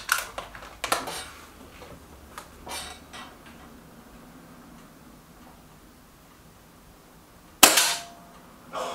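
Air rifle pellet shots from a Trimex Arms Elf S and a Kral Puncher Knight: a few sharp cracks near the start, quiet ticking in between, then one loud, close report near the end.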